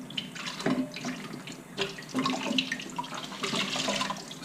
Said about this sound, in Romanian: un prosop înmuiat în apă